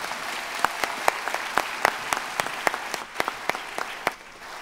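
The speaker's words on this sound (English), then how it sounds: "Let's give her a big round of applause." Audience at a writing challenge event giving a modest round of applause, individual sharp claps standing out distinctly over a soft wash of crowd sound, thinning toward the end.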